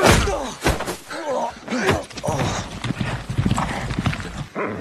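Horse hooves clip-clopping in uneven bursts, close and loud, mixed with thuds and a faint whinny, no speech.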